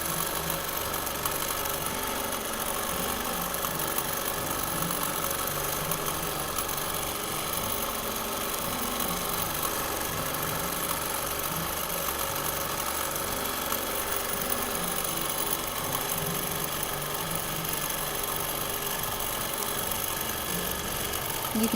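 Domestic sewing machine free-motion quilting a quilt, a steady continuous motor hum with a fast rhythmic needle chatter running without pause, close and even in level, with no talking.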